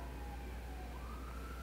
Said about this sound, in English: There's a fucking ambulance going on in the background.